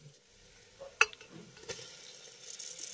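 Chopped ripe tomatoes fry with cooked spices in a pan over medium flame, giving a soft, faint sizzle with a sharp clink and stirring scrapes.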